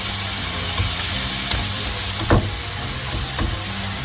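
Steak for bistec encebollado browning in a hot pan, giving a loud, steady sizzle heard up close, with a few sharp pops and spatters breaking through. No one speaks.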